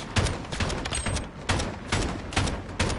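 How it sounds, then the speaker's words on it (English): Steady automatic gunfire in Modern Warfare rattles in rapid, evenly spaced bursts, loud and close, with a few slightly stronger shots recurring about every half second to second. "That dude never stopped shooting, even when I was down."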